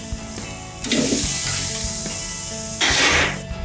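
Short ribs sizzle on a smoker as they are flipped, giving a steady loud frying hiss with two sharper surges of spitting as the meat turns over.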